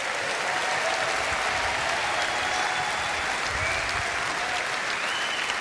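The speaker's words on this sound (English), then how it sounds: "Give him a round of applause." A large party conference audience applauds steadily and loudly for a leader's tribute, a continuous dense wash of clapping from a big hall with no pauses.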